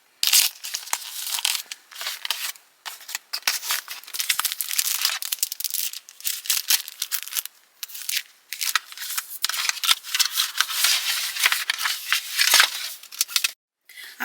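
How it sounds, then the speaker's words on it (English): Packaging for a pink iPhone 16 Plus is ripped open, with close crinkling, tearing and crunching of plastic and paper in continuous bursts with brief pauses. "I have these long nails on, so I'm gonna be ripping"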